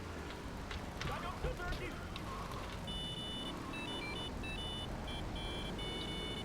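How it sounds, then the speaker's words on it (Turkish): A phone rings inside the video game GTA 3 as a quiet repeated electronic beeping tone, heard over a constant hiss of rain-like background noise. "Bak telefon çaldı."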